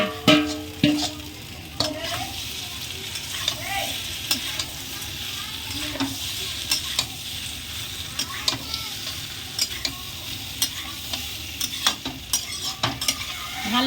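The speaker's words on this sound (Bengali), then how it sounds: "এই যে ডিম আর আলুটা দিয়ে কষিয়ে নেবো" Egg and potato stir-fried in masala over medium heat, a constant sizzle punctuated by frequent sharp clicks and scrapes of a spoon against the pan, close and busy throughout.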